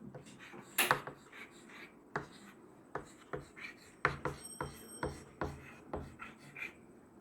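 Marker or chalk strokes scratch and tap across a classroom board in short, rhythmic bursts, fairly quiet and close, with a few louder knocks in between and no clear talking.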